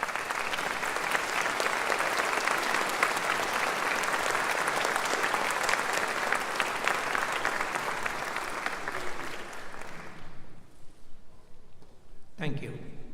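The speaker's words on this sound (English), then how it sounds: "accept the applause of the class of 2028 and this audience for your education and practical training" Audience applause for pharmacists and preceptors at a pharmacy school ceremony, steady and dense for about ten seconds before tapering off, followed by a brief voice.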